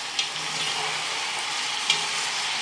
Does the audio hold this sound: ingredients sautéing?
yes